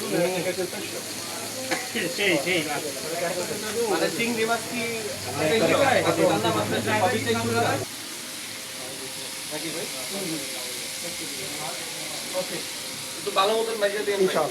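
Fish frying in hot oil in a pan, a steady crackling sizzle running throughout, with people talking over it and some stirring noises.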